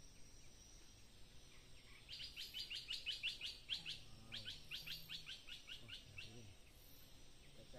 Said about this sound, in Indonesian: Tuh ada suara burung ya di atas.